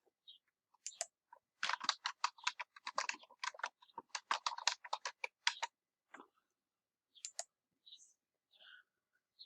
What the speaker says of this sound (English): I'm going to go over here and type in purchase journal.